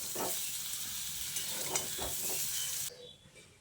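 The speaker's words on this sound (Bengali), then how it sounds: "এবার এর মধ্যে অল্প পরিমাণে হলুদ যোগ করে এঁচোড়গুলোকে ভেজে নিতে হবে" Young jackfruit pieces fry with turmeric in a hot pan, giving a steady close sizzle with a few scraping stirs until the hiss drops away near the end.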